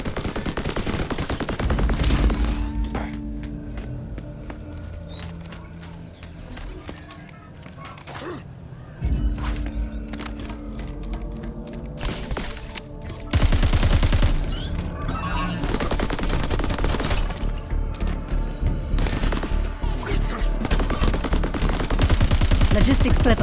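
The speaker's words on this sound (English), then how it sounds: "Watch the enemy fire." Enemy gunfire in the video game Crackdown 3 comes as dense volleys of automatic shots and impacts, loud and continuous with short lulls, mixed with game effects and booms.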